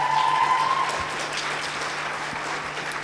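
An audience at a Chicago mayoral forum on education applauds, a broad, even patter of many hands heard from a distance, with a faint tone and hum in the hall.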